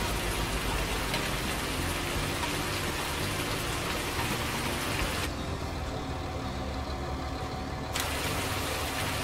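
Steady rain falls in a farming video game set somewhere in Thuringia, a continuous even hiss that lasts throughout with no talking.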